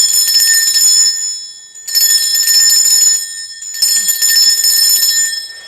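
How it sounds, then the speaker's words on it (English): A bell rung to cleanse a space gives three long, bright, shimmering rings, each sustained and fading before the next strike, loud and close with nothing else heard. "I'm going to ring this bell just to cleanse the space around us."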